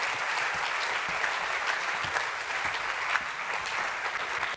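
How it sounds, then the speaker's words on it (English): Audience applause at a philanthropy launch event in Surrey, steady and sustained throughout, a dense wash of many hands clapping with no voices over it. "Please, another round of applause for my colleagues here."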